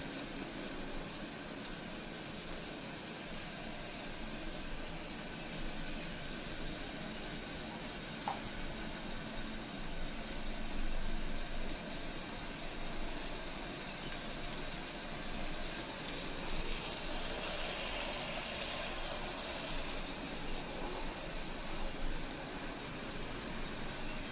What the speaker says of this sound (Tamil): ஒரு 5 கூட சின்ன வெங்காயம் கொஞ்சம் தாளிச்சு